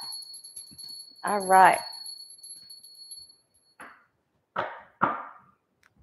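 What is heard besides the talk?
bell being rung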